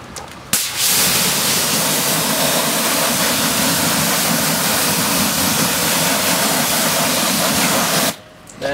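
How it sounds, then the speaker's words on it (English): A steady water spray rinses a car wheel during wheel cleaner testing, a loud, close, continuous hissing gush that starts abruptly and cuts off near the end, with no speech. "So I'm actually gonna do a quick rinse on the wheel."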